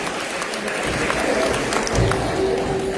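An audience at a convention artist night claps in thanks after a performance, a continuous close wash of applause with some crowd noise and a faint tone underneath.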